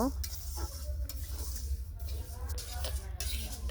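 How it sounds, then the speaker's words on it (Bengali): Mung dal being fried in a pan, a dry sizzling hiss with frequent scraping stirs of a spatula, close by, with faint background voices. "প্রথমে আমি মুগ ডাল ভেজে নেব"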